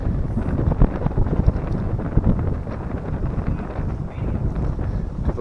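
Wind blowing outdoors buffets the microphone in a continuous loud, rumbling rush with gusty swells and dips throughout.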